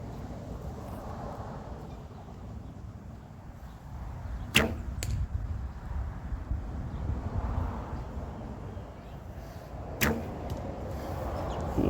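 Arrows shot from a light-poundage Temu bow outdoors, two sharp snapping releases with quick thuds near the middle and another later, standing out over a quiet, rumbling background with no talking.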